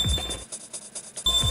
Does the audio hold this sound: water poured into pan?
no